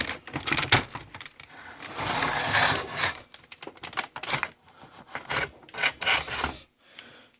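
Plastic parts of a Nerf Longstrike blaster are pried open by hand, producing bursts of creaking, scraping and clicking with short rasping rubs and brief pauses between them, close and fairly loud.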